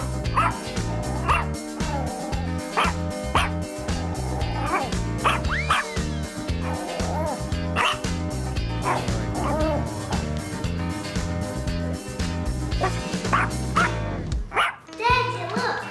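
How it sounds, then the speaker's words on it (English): A pet dog yips, barks and whimpers in a small home with children, the calls repeating over and over near the microphone above a steady musical background, ending in a brief sharp burst. "I can't do my homework because of the dog."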